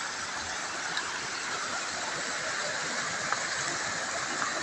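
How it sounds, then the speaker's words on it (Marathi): A small waterfall in Konkan, India rushes steadily, a constant broadband hiss of falling water with no pauses, fairly close and even in loudness. "तर काय पाहू शकताय तुम्ही धबधबा"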